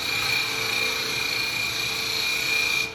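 A woodturning lathe makes small, light cuts on a small wooden pot held by a tenon, giving a steady whining hum with a bright high tone throughout that cuts off sharply near the end.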